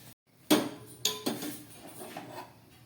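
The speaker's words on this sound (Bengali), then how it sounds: "একটা কড়াই বসিয়ে দিয়ে তার মধ্যে আমি দুধটাকে ঢেলে দিচ্ছি" A metal wok set down on a stove with a sharp clank, followed by a couple of lighter knocks and a soft splashing pour of milk, close and clear with no talk.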